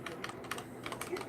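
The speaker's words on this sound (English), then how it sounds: "Notice I'm typing into there at the moment." Fingers type rapidly on a computer keyboard, a dense run of soft close clicks with no voices.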